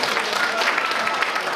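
Audience clapping at a lively village celebration in Murang'a, a dense steady wash of many hands applauding together, loud and continuous with no voices breaking through.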